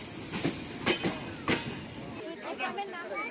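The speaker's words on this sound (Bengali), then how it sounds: "অনেক বড় ট্রেন। এইটা দিয়ে আমরা গতকাল ঢাকা থেকে আসছি রাজশাহীতে।" A long train rumbles close by at a station with a few sharp rhythmic clacks of wheels over track joints, and people chatter faintly underneath.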